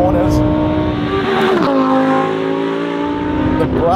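A Lamborghini Huracan STO engine roars loud and close while cornering on a track, a sustained high-pitched wail with a brief pitch dip at a gear change, and a voice talks underneath.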